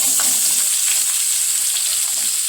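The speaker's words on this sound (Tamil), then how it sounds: "நல்லா கோல்டன் ப்ரௌன் ஆகிற வரைக்கும் வதக்கணும்." Sliced onions and green chillies fry in hot oil for UAE mandi biryani, giving a loud, bright, continuous sizzle with a close, steady crackle and no talking.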